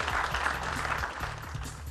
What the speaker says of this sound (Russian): Ей первые аплодисменты.